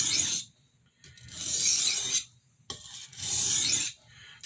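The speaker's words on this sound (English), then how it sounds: "I like sharpening on my higher grit stones" A kitchen utility knife is drawn across a high-grit whetstone in close, loud, rasping strokes, two long passes separated by brief quiet gaps.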